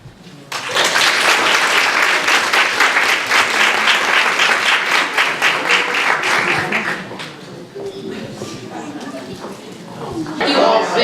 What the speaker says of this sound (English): Can we have another big round of applause for the Red Cross?